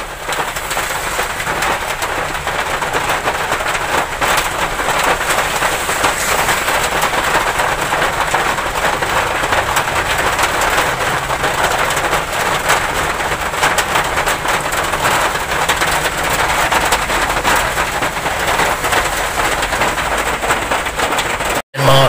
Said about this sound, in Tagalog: Ngayon ulan, ulan.